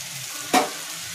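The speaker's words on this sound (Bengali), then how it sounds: "মশলাটা ভালো মতন কষিয়ে নেব" Ground spice paste with turmeric and fried cumin cooks in a pan for vegetarian rajma, giving a steady soft sizzle with one brief, louder stirring scrape in the middle.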